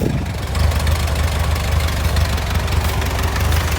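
A 1952 Ford 8N tractor engine runs steadily at idle, a loud close low chugging rumble with a rough even pulse throughout.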